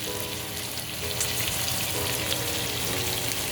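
Jerk shrimp browning in hot oil make a steady, close sizzle and crackle that continues evenly throughout.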